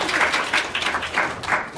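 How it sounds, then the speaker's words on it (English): Brief applause from a small audience welcoming panelists at a talk on land transition and succession, with individual claps distinct in an uneven, bursty rhythm, fairly close and short-lived. "please give them a warm round of applause to welcome"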